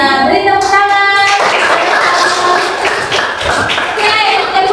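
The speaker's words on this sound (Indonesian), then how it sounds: "Beri tepuk tangan." A classroom of pupils claps together after a Christian religion lesson prompt, loud and steady, starting about a second in, while a voice speaks briefly at the start.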